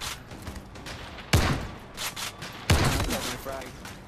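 Shotgun gunfire in the VR shooter Zero Caliber: Reloaded on Oculus Quest 2: two loud booming blasts spaced over a second apart, over game ambience with a voice talking.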